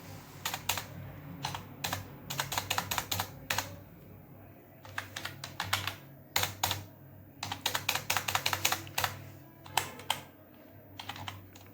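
Keystrokes on a computer keyboard enter stock items in Tally ERP 9 accounting software. The clicks come in quick bursts with short pauses between them, close and fairly quiet over a low background hum.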